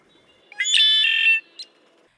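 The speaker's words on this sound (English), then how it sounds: "here is a classic conch-la-ree from a red-winged blackbird" A red-winged blackbird gives a single loud, clear conk-la-ree call, a short buzzy trill followed by a brief final note, against near silence.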